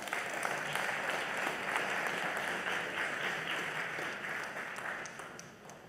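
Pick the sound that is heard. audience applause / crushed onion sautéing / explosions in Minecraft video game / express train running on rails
audience applause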